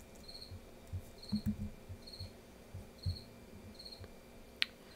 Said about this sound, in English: if you guys can hear cricket chirping